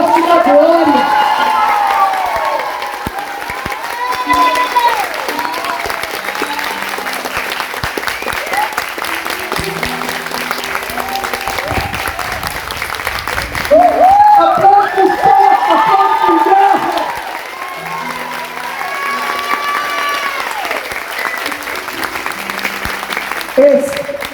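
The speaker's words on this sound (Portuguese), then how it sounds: "Se você crê, aplaude, tome posse da glória." A crowd at a religious vocational gathering claps and cheers loudly, with whoops and shouted voices rising and falling over a long stretch and a louder surge midway.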